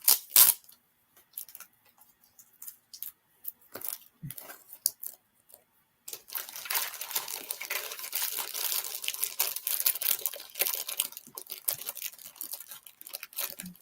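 Crinkling and tearing of a sealed package being forced open, with sparse scattered crackles at first, then a sustained dense stretch of crinkling plastic close by, with no talk over it.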